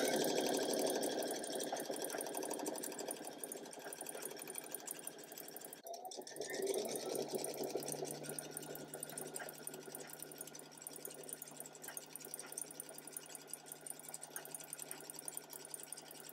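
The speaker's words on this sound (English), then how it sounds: "So I'm going to sew this together and then I'm going to add this on to the bottom." Sewing machine stitching cotton quilt block pieces together for a mystery quilt, a steady continuous mechanical whir that runs throughout with a brief pause near the middle, fairly close and alone without talk.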